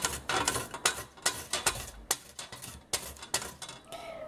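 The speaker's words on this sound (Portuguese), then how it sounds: "Aqui lave bem a cenoura e rale." A carrot being grated by hand, repeated rhythmic scraping strokes against the grater, close and fairly quiet, each stroke a short rasp with brief gaps between.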